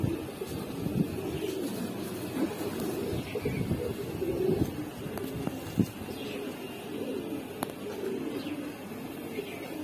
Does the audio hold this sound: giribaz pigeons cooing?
yes